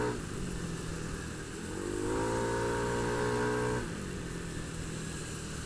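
Motorcycle on a road in Bali pulling away with a rising engine note that swells for a couple of seconds before easing back to a steady cruise, heard close over constant wind and road noise with no talking.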